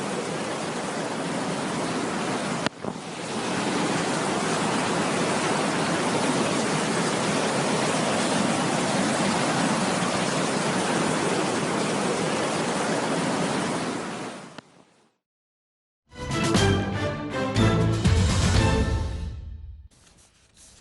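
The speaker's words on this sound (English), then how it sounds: "heavy to moderate rains fell in the Wilayat of Hamra, causing some wadis and tributaries to overflow" Rushing floodwater roars steadily as rain-swollen wadis and tributaries overflow in the Wilayat of Hamra, a broad continuous torrent that cuts out briefly before a rougher, choppier burst of water noise.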